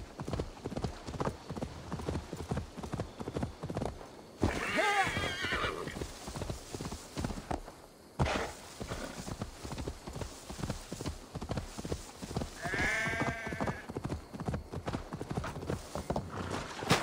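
A horse in Assassin's Creed Valhalla clip-clops along steadily for the whole stretch, its hooves close and loud, and whinnies twice at clear moments along the way, the neighs rising bright above the rhythmic footfalls.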